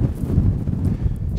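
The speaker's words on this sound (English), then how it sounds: "it's cold, and yeah, it's pretty windy." Cold wind blows across an exposed moorland in the Peak District on a bleak morning, a low, gusty rumble buffeting the microphone in uneven surges.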